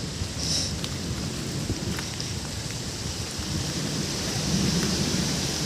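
Heavy rain pours down continuously with low rolling thunder underneath, a dense and unbroken wash of sound that swells slightly toward the end.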